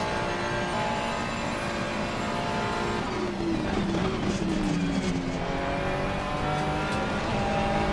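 A race car engine roars continuously in the Assetto Corsa Competizione racing game, revving and shifting under acceleration, with tire squeal and other cars audible nearby, loud and close throughout.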